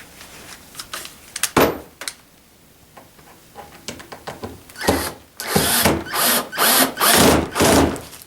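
A power drill re-drilling holes in an ice fishing sled while fitting a windbreak, with a few short whirring bursts near the end after scattered clicks and handling noise, close and fairly loud.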